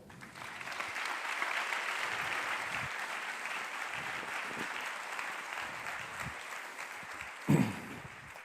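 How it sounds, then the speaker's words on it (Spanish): Audience applause for a speaker at a science talk event in Valladolid, a steady sustained wash of many clapping hands from a crowd, fading near the end with a brief louder thump. "Un fuerte aplauso para Iñaco"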